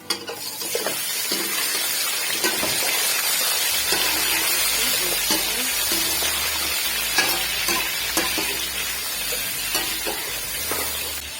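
Steady, loud sizzling of chicken frying in a hot pan with ginger and garlic for chicken pulao, with occasional stirring and scraping sounds throughout and no talking.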